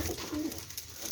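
Pigeons give a brief low coo, close and steady, in a short burst with no talk.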